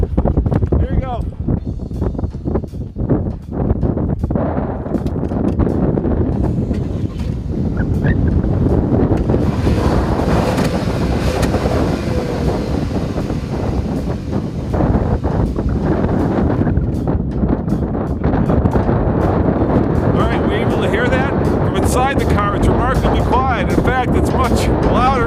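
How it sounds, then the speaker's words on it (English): Strong wind buffets a microphone outdoors beside a 2014 Volkswagen Tiguan 4Motion, a constant loud rumbling roar that swells and eases while someone talks over it throughout. "we've got a little bit of a wind event happening today"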